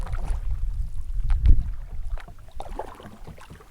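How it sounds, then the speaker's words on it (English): A canoe paddled out across a calm lake in Woodland Caribou wilderness, with close, soft paddle strokes and water swishes against light wind buffeting the microphone, no talking. "So it should be a nice easy paddle out of here."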